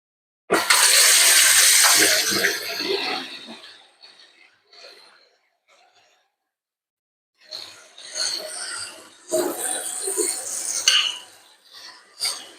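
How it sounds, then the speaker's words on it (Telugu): Boiled noodles being strained as their hot water is poured off, a loud splashing gush with metallic pot clatter, a pause, then more bursts of pouring and handling. "సో ఇప్పుడు మనం స్టవ్ ఆఫ్ చేసి దీన్ని తీసుకెళ్ళి మనం స్ట్రైన్ చేసేద్దాం"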